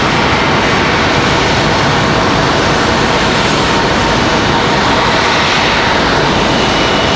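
A Breeze Airways airliner roars loudly on its landing approach at Raleigh-Durham airport, a dense broadband engine rumble that stays steady and close for several seconds.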